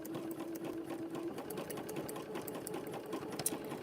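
Sewing machine with a big nose stitching rounds of a rope bowl made with trellis or ladder lace: a quiet, steady mechanical whir with a faint hum, running alone.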